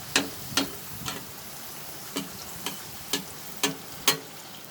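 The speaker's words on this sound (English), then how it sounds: "So I'm going to fry all the puris" A puri frying in hot oil, heard as a faint steady sizzle broken by soft crackling pops spaced about half a second apart.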